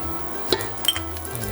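Garlic cloves sizzling in olive oil in a pan while making Italian mussels, a soft steady frying hiss with a couple of brief clinks of a utensil against the pan.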